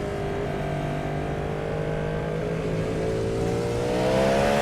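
A race car is driven on a lap of Road Atlanta, its engine droning loud and close from the cockpit and revving gradually higher as it accelerates.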